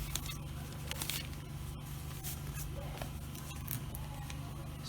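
Scissors snip through fabric while a female shirt with darts is cut out along a pattern, giving faint, scattered cutting sounds over a steady low hum with no talk.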